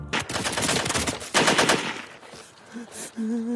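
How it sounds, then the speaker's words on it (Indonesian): Rapid bursts of machine gun fire from a film scene ring out loudly in quick succession, followed by a pause and then short shouts or sirens at the end. "Suara ricuh membuat pasukan panik dan menembak secara membabi buta, hampir mengenai kawannya sendiri."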